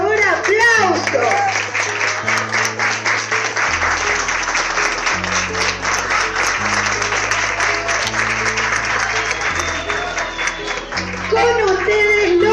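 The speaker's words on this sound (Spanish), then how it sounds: "Por favor, aplausos." An audience at a school arts show applauds the drummer of a rock band of four-year-olds: steady, full applause lasting several seconds, with a low sustained tone underneath and a voice briefly at the start and end.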